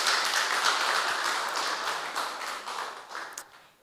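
An audience at a parenting community session gives sustained applause, a dense wash of many hands clapping at moderate volume that gradually thins and fades toward the end.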